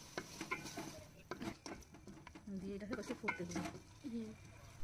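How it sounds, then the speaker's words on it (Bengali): Beef cooking with pumpkin in a pot with red chili powder, turmeric and a splash of water is stirred, with soft irregular scrapes and knocks of a utensil against metal over a faint simmer, quiet and close. "তারপর এটা দিয়ে একটুখানি হালকা জল দিয়ে আমরা ভালো করে নেড়ে নেবো সেটাকে"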